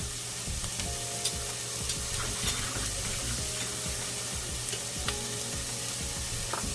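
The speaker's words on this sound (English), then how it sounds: "let me saute this for a minute before I add the garlic" Steady sizzling and stirring of ingredients sautéing in a pot for pinto beans with turkey, a continuous close frying hiss with occasional utensil scrapes and no talking.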